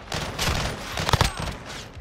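Rapid bursts of video game gunfire crack in quick succession, with several sharp shots clustered near the middle.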